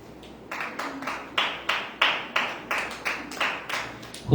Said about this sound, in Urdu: اپنے لیے تالیاں جائیں۔